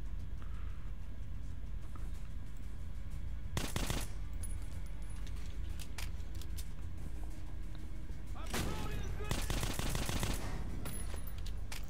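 Pistol and shotgun fire in Metro: Last Light inside a bandit tunnel, two loud broadband bursts of shots standing out against a quiet, rumbling background.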